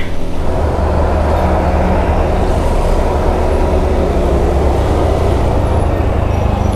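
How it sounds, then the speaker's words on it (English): Dense road traffic in Bogota, with the steady rumble of buses, cars and trucks plus an air-brake hiss, loud and continuous with no talk. "And traffic."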